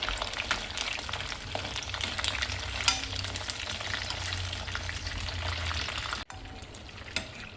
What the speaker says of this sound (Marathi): तेल तापलेलं आहे, मी झिंग्याची तुकडे जे केले होते ते टाकत आहे